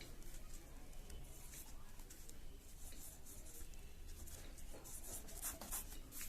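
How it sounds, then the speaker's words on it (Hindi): A pen scratches softly across paper while the Urdu word wuzu is handwritten, with faint, quick strokes and small pauses at a quiet, close level. "अगर आपको वजू लिखना हो तो आप वजू यूं लिखेंगे"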